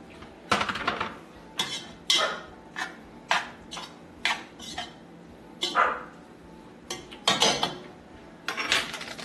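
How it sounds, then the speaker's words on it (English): Pasta being stirred with melted butter in a metal pot for Cajun mac and cheese, with repeated scraping and clinking strokes in an irregular rhythm, close and fairly loud, and no talking. "Give it some good stirs so that butter gets all melted in there with it."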